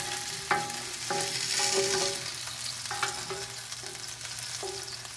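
Steak on an indoor grill gives a steady sizzle and fry across the whole span, with a few clinks and scrapes of utensils against the cookware and no talking.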